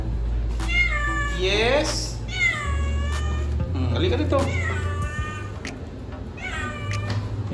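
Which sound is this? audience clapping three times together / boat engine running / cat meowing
cat meowing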